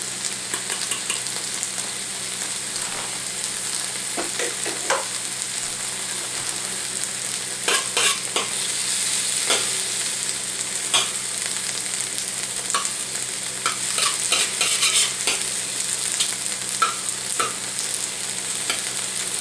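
Chili paste stir-fried in a pan for fish-fragrant tofu, with a steady, close sizzle broken by scraping and stirring clatter throughout and no talking.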